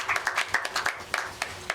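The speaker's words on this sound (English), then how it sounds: "Let's give Joseph Matthews an applause" Audience at a panel discussion clapping to welcome a speaker, a modest group of hands producing distinct, rhythmic claps at close range for under two seconds.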